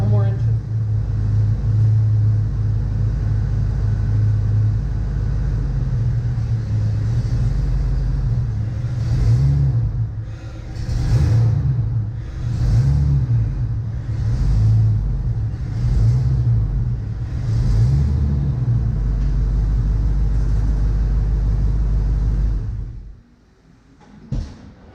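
A 1992 Ford Mustang GT idles with a deep rumble, then revs in a series of surges as it drives up onto race ramps. The engine cuts off near the end, leaving near silence.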